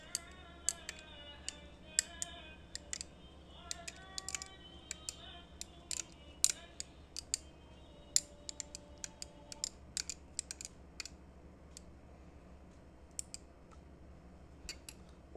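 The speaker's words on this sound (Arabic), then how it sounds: "وهنقلبهم كويس قوي" Chia seeds are stirred into water with sharp, irregular clicks and taps against the container. The sounds are close and scattered over about fifteen seconds, with quiet gaps between them. No voices.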